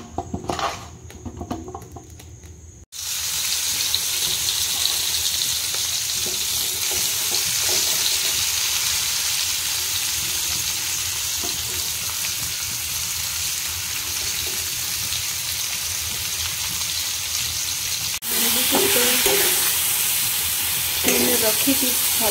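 Marinated okra drops into hot mustard oil in a wok and sizzles loudly. A quieter start gives way to an abrupt, steady, hissing fry that continues close up, with light stirring noises near the end.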